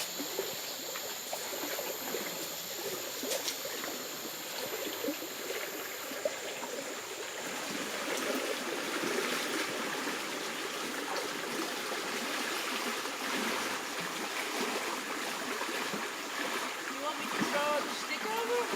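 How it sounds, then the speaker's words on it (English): A river flowing near a jungle lodge in the Ecuadorian Amazon gives a continuous rushing, trickling wash that swells slightly in the second half, with faint voices and small splashes in the background. "we have to cross the river near the lodge."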